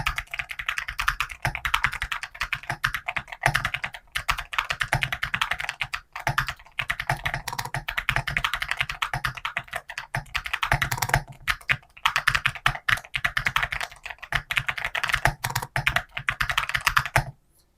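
Rapid clacky keystrokes on an Epomaker MS68 mechanical keyboard, close and crisp, in bursts with brief pauses, no talking.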